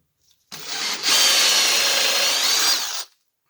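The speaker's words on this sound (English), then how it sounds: "you want to be drilling straight holes" A handheld power drill spins up and drives a straight hole through a wooden form, whining and grinding loudly up close for about two and a half seconds before winding down to silence.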